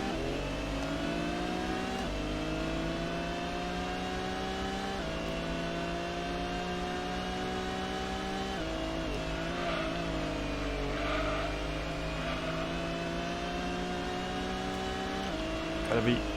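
A race car engine in the Gran Turismo video game holds a sustained high whine, dropping and climbing through several gear shifts during a race, loud and continuous with faint tyre noise.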